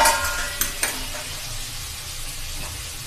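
Oil sizzles in a kadhai heating up for a vegetable curry, with a steady, quiet frying hiss and a couple of light clinks of stirring, and no talk.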